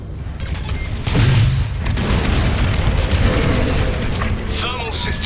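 A deep booming explosion in the Star Wars: Squadrons space combat game, a heavy rumbling blast that swells and lingers with crackling debris, mixed with game effects and voices talking.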